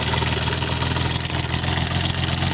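A GY6 Rusi Gala scooter engine idles right after starting, a dense, steady, close-up mechanical rattle and hum that continues without a break.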